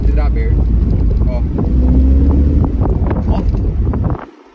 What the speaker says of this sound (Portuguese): eu não tô correndo e tá entrando vento já na minha casa. O vidro aberto.